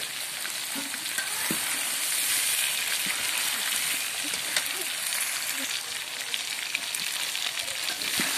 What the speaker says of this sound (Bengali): মুরগিগুলো কিন্তু আমরা একবারে কড়া করে ভেজে নেব না